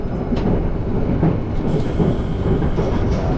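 A steady loud rumble and rattle of an Indonesian Suite Class passenger train running, heard from inside a carpeted compartment with continuous wheel and carriage noise.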